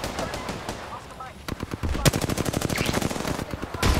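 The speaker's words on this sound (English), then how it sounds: "I was shooting at the wrong one." Rapid automatic gunfire in the battle royale game Apex Legends, loud and close, with bursts of repeated shots packed across the second half and a last burst at the end.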